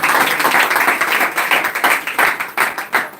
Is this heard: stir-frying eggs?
no